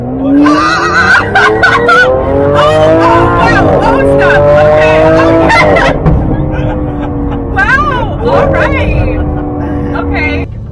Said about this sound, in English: do you want me to go fast so you can see how the car is?